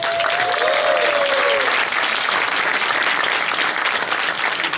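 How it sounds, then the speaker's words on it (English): Conference audience gives steady, dense applause for Indian women tech leaders standing at a panel session, with a brief whistle or voice rising early on. "give them a round of applause"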